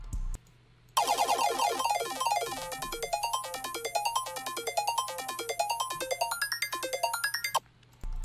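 A bright synth arpeggio ripples rapidly up and down in repeating patterns over a steady low drone, clear and unaccompanied, then stops abruptly.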